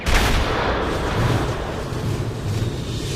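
A deep, roaring explosion sound effect representing the Big Bang: a broad, loud rumble that bursts at the start and keeps roaring steadily without any voices.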